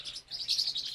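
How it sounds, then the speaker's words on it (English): Agitated Indian Ringneck parrots chirping and calling in short, high, repeated bursts indoors, fairly faint and without speech. "Now my parrots are upset because I think Milo's on their cage."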